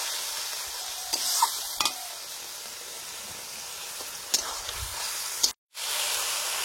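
Spice masala with added water is stirred in a pan and bubbles with a soft sizzle, broken by a few sharp scraping clicks of a spoon against the metal and one brief cut to silence near the end.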